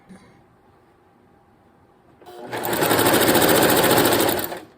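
A sewing machine stitches down the side of a quilt, starting after a quiet pause and running as a fast, loud, even mechanical chatter for about two seconds before slowing to a stop.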